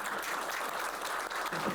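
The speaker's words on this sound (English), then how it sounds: "Let's give our panelists a round of applause" A conference audience applauding panelists after a biomedical research briefing, dense continuous clapping from a full room, loud and sustained throughout.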